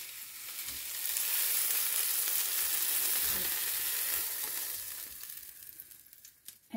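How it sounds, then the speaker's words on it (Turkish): Green beans frying in a pan, a steady broadband sizzle that swells after the first second and holds loud before easing and thinning out toward the end, with faint stirring knocks underneath. "Gördüğünüz gibi fasulyemiz de güzelce kızardı."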